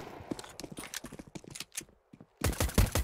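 Rapid gunfire bursts in Counter-Strike 2, crackling in dense clusters, a short lull, then a louder closing volley near the end.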